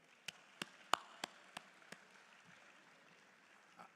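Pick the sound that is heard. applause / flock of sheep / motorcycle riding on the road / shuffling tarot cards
applause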